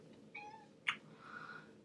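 Cleo, a pet cat indoors, gives a soft, faint meow followed by a sharper, brighter chirp and another quiet trailing meow, close but low in level, with no talk.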